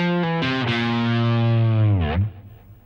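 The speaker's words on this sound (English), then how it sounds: "here's the final phrase where we're going to use what I call the dominant pentatonic scale" Distorted electric guitar plays a blues phrase built on the dominant pentatonic scale, with sustained bent notes and a pitch dip near the end before the last note fades, loud and close with a chorus-like effect.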